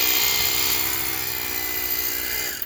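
A drill bores into stone for a water well on rural land, a loud, continuous high-pitched grinding whine with a steady tonal hum that drops off briefly at the very end, no voices.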